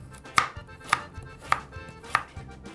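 Carrots being sliced finely with a knife on a cutting board: four crisp, evenly spaced chops, close and clear, with no talking.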